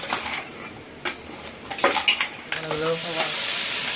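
Rohu fish pieces frying in a pan in a home kitchen, a soft steady sizzle with scattered clinks and stirring scrapes, brief voices in the background.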